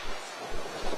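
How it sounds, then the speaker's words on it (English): Wind gusts over a ferry dock on a breezy July day as an old vintage ferry comes in, with low rushing wind and a few rhythmic surges of water against the dock, close and moderately loud. "It's kind of a windy day."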